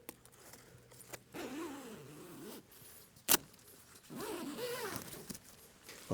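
A two-way zip on a Vango F10 Xenon UL2 ultralight tent door rasps open in two separate long pulls, close up, with a sharp click between them and no talk.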